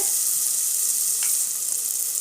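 Gourd and small beans sautéing in hot oil, a steady close hiss of frying that holds level throughout with a faint scrape partway through.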